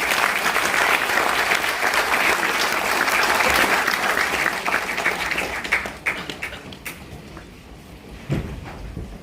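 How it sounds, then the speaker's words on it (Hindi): Audience applause at a cyber security leadership summit award ceremony, a full burst of crowd clapping that thins out into scattered claps and fades near the end. "पुनः तालियों के साथ अभिनंदन।"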